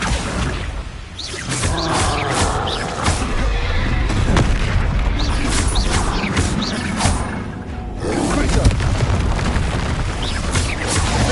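Repeated Confringo blasting-spell explosions in Hogwarts Legacy, booming bursts of fiery impact one after another, loud and close over continuous battle noise.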